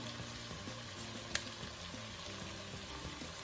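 Food sautéing in a pan while cooking chicken and dumplings, a quiet steady sizzle and frying crackle with faint stirring clicks and one brief sharp tick, no talking.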